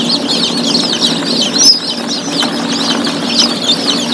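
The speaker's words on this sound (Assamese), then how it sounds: "এইটো একদম অরিজিনাল লোকাল পোৱালি হয়।" Local chicks and chickens on a poultry farm with an incubator in Bongaigaon, Assam, chirp in dense, continuous high peeping over a low hum, close and loud.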